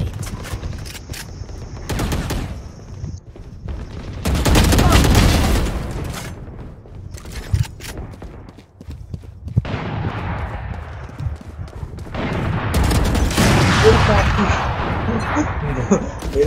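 Gunfire in the Valorant video game comes as rapid automatic bursts and single shots, loud and close, clustered in several volleys separated by quieter gaps, with a player talking over parts of the action.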